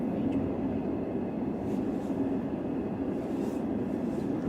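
Interior rumble of a slow-moving passenger train with sleeper beds crossing the Yangtze River in China, a steady low, dense roar heard close from inside the carriage with faint rattles on top.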